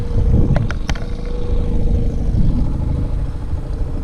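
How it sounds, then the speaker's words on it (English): A low engine rumble of motorboats coming in and out of a muddy lake, with a few sharp clanks near the start; no speech. "There's a lot of boats coming in and out of the lake right now."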